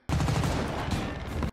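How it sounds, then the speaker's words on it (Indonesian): A single sustained burst of rapid automatic gunfire, loud and close, rattles without pause for about a second and a half and then cuts off abruptly. "Ma'il yang sudah kesal kepada musuh melepaskan rentetan tembakan."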